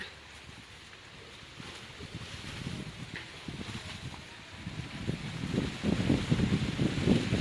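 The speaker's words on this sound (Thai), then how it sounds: "ลมขนาดเลยพี่น้อง" Strong wind blows outdoors in a rural setting, a steady low buffeting rumble across the mic that grows louder and gustier toward the end, with no voices.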